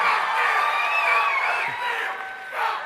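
A large crowd at a TPUSA student event cheers and whoops loudly in a hall, a dense sustained roar that eases slightly then swells again near the end.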